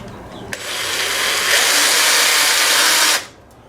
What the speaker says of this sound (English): I'm going to use a slightly bigger drill, the 9/64, and drill the heads off them